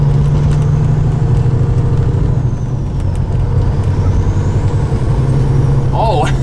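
A 2001 Peterbilt 379 truck with a 450-horsepower Caterpillar engine and high mileage pulls hard in eighth gear, giving a loud, steady diesel drone heard from inside the cab, with talk over it.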